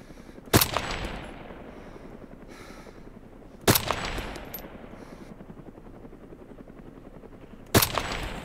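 Gunfire strikes a helicopter rotor in DayZ Epoch, with three sharp loud impacts spaced a few seconds apart, each trailing off into a whirring, chopping rotor drone.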